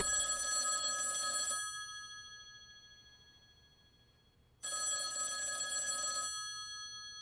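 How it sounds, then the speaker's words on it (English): An old-style telephone bell rings in two long, loud, close bursts separated by a few seconds of near silence. "that phone over there is gonna ring"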